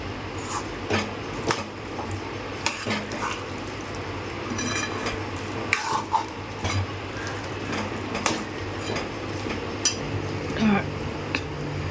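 A spoon scrapes and clinks against a pot while dal is stirred continuously until it turns dry, a steady run of soft scraping and metallic taps over a low kitchen hum, with a voice speaking now and then.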